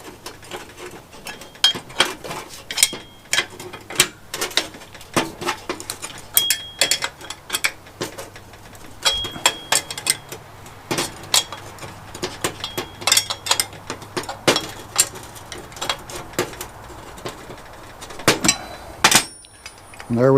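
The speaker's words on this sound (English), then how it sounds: "using a 9/16 inch wrench, just tighten these up" A 9/16 inch wrench clicks and clanks in quick irregular bursts while tightening bolts on a chicken tractor wheel kit, close and sharp, with a faint background hum.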